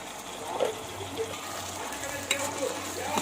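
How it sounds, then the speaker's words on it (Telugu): A spoon stirs green chicken curry with turmeric and salt in a pan, producing a continuous close simmer and sizzle with scattered clinks and scrapes under some faint background talk. "ఒకసారి కలుపుకుందాం మొత్తం"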